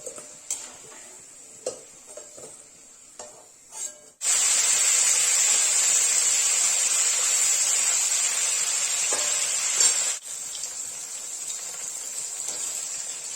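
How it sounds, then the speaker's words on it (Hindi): Potatoes for Kashmiri paneer masala fry in hot oil, a steady loud sizzle rising abruptly after a few light clinks and stirring taps, then easing to a softer hiss near the end. "जब आलू मैगनी फ्राई हो जाएगा तो इसको निकाल लेंगे"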